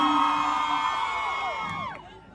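A concert crowd screams and cheers loudly, a dense wash of sustained high-pitched shrieks and whoops that holds strong and then fades out near the end.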